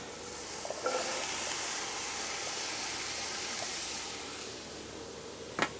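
Bell peppers hit a hot pan for ratatouille and set off a steady, broad sizzling hiss that holds for several seconds, with a few soft ticks and a sharp clink near the end.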